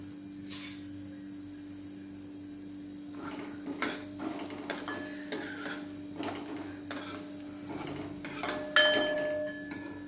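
Moth bean dal roasting in a pan over a medium gas flame, with scattered light clinks and scraping of a utensil stirring against the pan over a steady low hum.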